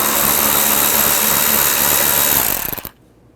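A power driver with a 7mm socket runs out a tail light screw on a 2007-16 GMC Acadia, a loud, steady, close whirring that lasts nearly three seconds before cutting off abruptly into quiet.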